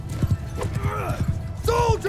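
Horses gallop in the medieval battle game Mount & Blade II Bannerlord, with a rhythmic clip-clop of hooves close by, a horse whinnying near the end, and a voice talking over the action.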